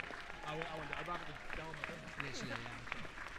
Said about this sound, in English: give a massive round of applause for our main event of the evening